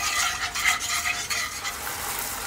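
Sweet and sour sauce with honey is stirred continuously in a pan over medium heat, a close, steady bubbling sizzle with soft scraping throughout.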